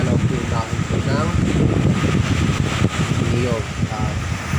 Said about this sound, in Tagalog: makikita po natin ang lakas po ng hangin